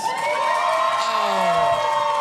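A live audience cheers and whoops loudly for a costume-contest choice, a steady crowd roar with excited voices sustained throughout.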